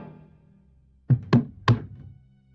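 Three sharp knocks on a door in a Hindi TV drama, spaced in a quick uneven rhythm, loud and close, following a faint low background hum with no talk.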